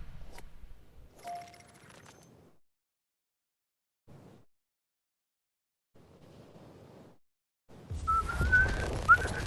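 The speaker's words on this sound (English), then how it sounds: "Oh, I whistled." A person whistles briefly during a Battlefield 2042 gaming session: a short tonal whistle early on, then a louder rising whistle near the end over rumbling game noise and ambient sound.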